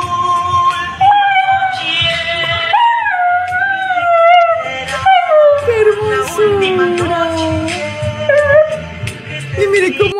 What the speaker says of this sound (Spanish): perrito grita